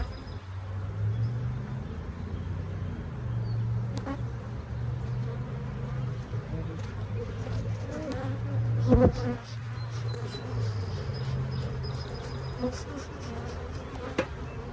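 A very full beehive buzzing with a dense, steady drone of many bees, close and continuous, with a brief knock partway through and no talk.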